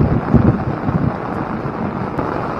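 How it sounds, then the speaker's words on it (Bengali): Heavy rain pouring steadily at a Shiva temple gate in Darjeeling during the rainy season, a dense low rumbling wash that holds evenly throughout without speech. "প্রচন্ড বৃষ্টি হচ্ছে"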